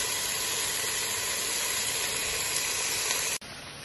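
Honduran plantain slices (tajadas) sizzle in hot oil in a deep pot, a steady, loud hiss that holds evenly for several seconds before cutting off abruptly.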